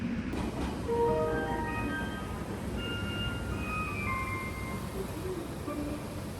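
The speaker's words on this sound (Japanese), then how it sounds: "列車はいつになく慎重に停車。" A JR Central rapid train eases to a careful stop at a busy platform fitted with platform doors, with a rumbling rail drone under rising and falling whining motor tones that fade as it slows.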